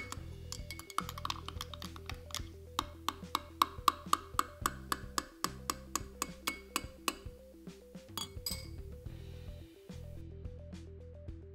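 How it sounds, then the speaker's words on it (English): A spoon stirs liquid in a glass, producing a rapid, regular series of faint clinks against the glass, quiet and close, continuing for about ten seconds. "I can stir the liquid in the glass to reintroduce the bubbles from the top back into the main body of liquid"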